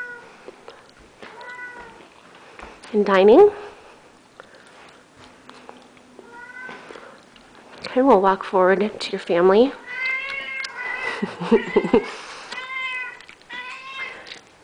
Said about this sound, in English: don't mind the kitty meowing in the background.